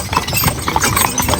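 Working horses pulling a wagon at a homestead, their hooves striking in a brisk, loud, close clip-clop rhythm, several hoofbeats overlapping with no talk.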